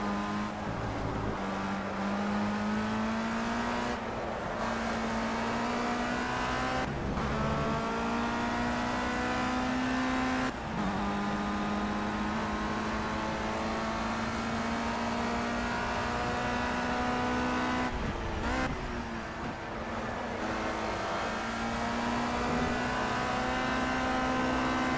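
Race car engine in Project CARS droning steadily and loudly throughout, holding a high revving pitch with brief dips at gear shifts every few seconds before climbing again, no voices.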